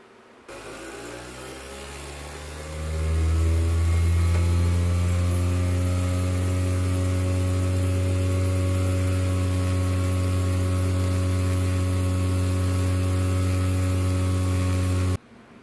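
A polishing machine works on 1969 Chevelle parts: its motor spins up over a couple of seconds into a loud, steady humming whine, holds evenly for about twelve seconds, then cuts off abruptly.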